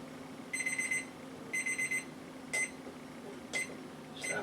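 A kitchen oven timer beeps in bursts of rapid electronic pips, two longer trains followed by three short single beeps, fairly quiet against a low steady hum.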